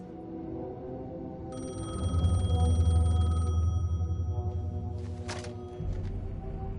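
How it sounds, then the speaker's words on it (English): Payphone ringing in the video game Alan Wake II: a steady electronic ring tone repeating under a low, droning ambient score, fairly distant and moderately quiet. "The payphone was ringing."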